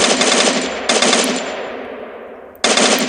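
Rapid automatic gunfire from the Free Fire shooter game, two loud sustained bursts with a brief gap and echoing decay before a third burst cuts in sharply at the end.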